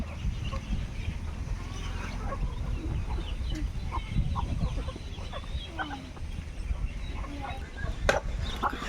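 Chickens cluck and murmur around a duck-raising pen with ducklings, soft scattered calls over a low rumbling background, with a few sharper clucks.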